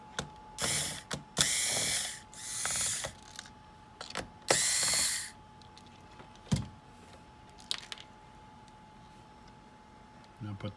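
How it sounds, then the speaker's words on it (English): Phillips screws being backed out of a game controller shell with a driver, heard as four rough, ratcheting bursts of whirring close by, with quiet gaps and a few light clicks between them. "Now you're going to remove the 4 Phillips screws that hold the controller together."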